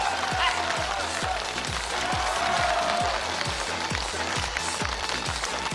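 A TV game-show studio audience claps to welcome a contestant, dense steady applause with a regular rhythmic beat running underneath, fairly loud throughout.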